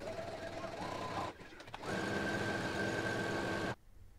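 A sewing machine stitches a fabric tie for wide-leg pants in two close, steady mechanical runs, a short one and then a longer one after a brief pause.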